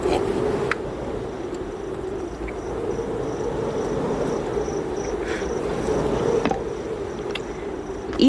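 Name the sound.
crickets chirping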